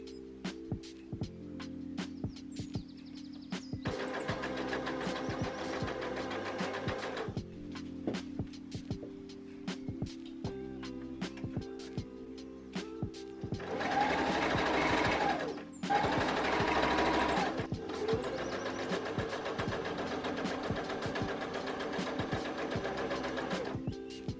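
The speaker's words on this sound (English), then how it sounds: "we're going to overlock the edges, gather up the top with long stitches, and gather this edge as well" An overlocker runs in long steady bursts, sewing the edges of bedsheet fabric for a skirt lining, a close rapid mechanical whir that stops and restarts several times, with louder stretches in the middle.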